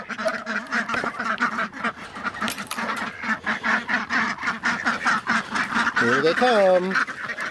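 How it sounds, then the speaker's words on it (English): Excited farmyard ducks quacking as they are let out of their shelter on a snowy homestead morning, a busy, overlapping chorus of close, loud quacks with some goose-like honks, while a person talks over them. "we can let the ducks out, and you can see how excited they are about coming out"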